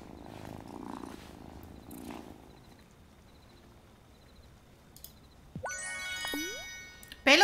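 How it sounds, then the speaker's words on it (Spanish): Cat purring in the video game Wylde Flowers, a soft low rumble early on, followed by chiming game jingles and tones toward the end. "Hey there, kitty."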